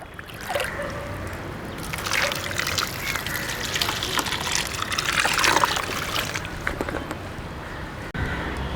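Water pours from a one-litre mug into a grow bag in a rooftop terrace garden, a steady, close splashing trickle lasting several seconds with no talking.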